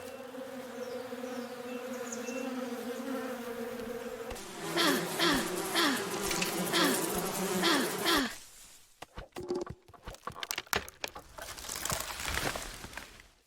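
Buzzing bees in the Above Snakes video game, a steady droning hum with rising and falling wingbeat tones, then broken up by crinkly scattered rustling and clicks.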